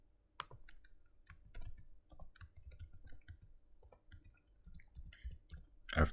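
Typing on a computer keyboard: light, irregular key clicks in short runs at close range, with a sharper clatter at the very end.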